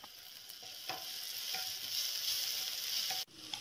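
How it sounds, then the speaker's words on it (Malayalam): Ginger garlic paste being sautéed in a pan for chilli mushroom, a bright steady sizzle with a few clicks of the spatula, cut short by a sharp knock near the end. "ഇനി ഇതിലേക്ക് 1 ടീസ്പൂൺ ജിഞ്ചർ ഗാർലിക് പേസ്റ്റ് കൂടി ചേർത്തിട്ട് ഒന്ന് വഴറ്റി കൊടുക്കാം"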